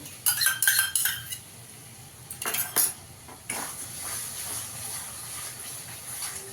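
A metal spoon scrapes and clanks against a pan as spiced masala with whisked yogurt is stirred over a low gas flame for masala chicken, in bursts of clatter followed by a soft, steady sizzling hiss.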